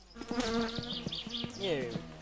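Flies buzz close by in the My Summer Car video game, a thin, wavering drone that rises and falls over about two seconds, with a faint voice-like murmur mixed beneath it.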